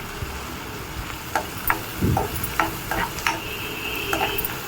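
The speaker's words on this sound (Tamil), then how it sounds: "ஃப்ரை ஆகட்டும் கொஞ்ச நேரம் ஆனியன்ஸு." Onions fry with a little salt in a pan, giving a soft, steady sizzle punctuated by occasional clicks and scrapes of stirring, close by and fairly quiet, with no voices.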